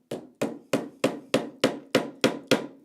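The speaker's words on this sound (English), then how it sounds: "with my pretty flowery hammer, I'm going to hammer it in" Hammer driving tacks into a carpet tack frame; eight sharp, evenly spaced strikes in a steady rhythm, close and clear with nothing else heard.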